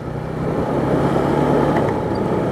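A warmed-up motorcycle with a weak battery that keeps cutting out runs close by in the rain, a steady low engine drone that swells slightly partway through and then continues evenly, with no talking over it.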